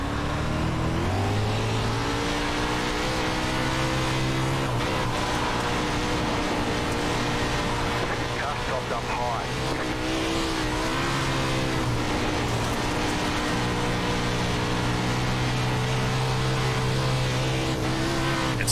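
Dirt race car lapping Volusia Speedway in iRacing, a steady loud engine drone with harmonic pitch rising and falling through acceleration and corner lift-offs, continuous throughout.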